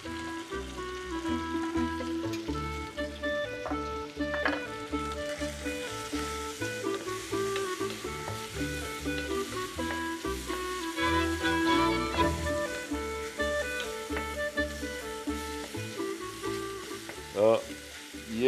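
Chicken fries with onion and carrot in hot oil for chicken soup, giving a steady, close sizzle with faint stirring, while soft background music plays underneath.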